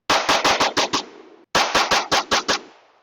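A Shadow Systems XR920P pistol fires two quick strings of five or six loud, sharp shots each, close and reverberant, separated by a brief pause.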